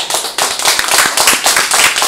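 Audience clapping at a lecture gathering, loud and close, a brisk flurry of hand claps filling the whole two seconds with no speech over it.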